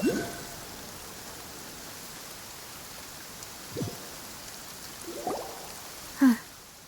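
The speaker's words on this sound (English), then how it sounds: "It's been raining non-stop for a few days now." Steady rain falls in the Genshin Impact video game, an even hiss throughout with a few faint soft knocks and one brief louder thump near the end.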